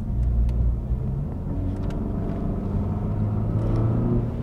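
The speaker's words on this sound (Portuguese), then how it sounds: "Temos este escape também, com dupla saída lá atrás, que também tem uma borboletazinha que altera a sonoridade em função do drive ou do sport" Steady low exhaust drone from a Volvo S60 Polestar with dual rear outlets and an exhaust valve, running in drive mode on mountain roads, a smooth continuous engine rumble heard from inside the car with no talk.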